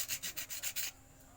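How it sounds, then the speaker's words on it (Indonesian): A grinder rubs down a seized compressor part in about six even, rhythmic scraping strokes, faint and close, before stopping into quiet. "Menggunakan amplas bisa, menggunakan alat yang saya pakai ini juga bisa, gerinda ya yang kita gunakan ya."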